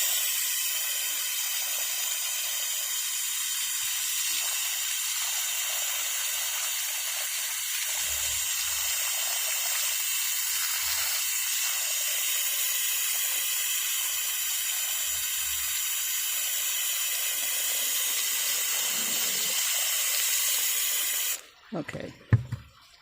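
Garden hose water spraying steadily onto garden soil, a continuous broad hiss lasting nearly the whole time, close and even, with low murmurs beneath before it cuts off abruptly near the end.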